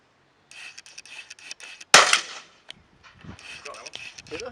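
A single shotgun blast at a clay target cracks out loud and close, then echoes away briefly, with a rustle of movement around it.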